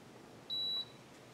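A Mr. Cool mini split air conditioner gives a single short, clear electronic beep as it is switched off, a steady high tone lasting about a third of a second over quiet room hiss.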